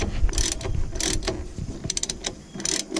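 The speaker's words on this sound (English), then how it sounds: "And then I can finish tightening it down." A hand ratchet clicks in short rapid bursts, tightening a sway bar bushing nut on a 2000 Ford F150, close and loud with brief pauses between strokes.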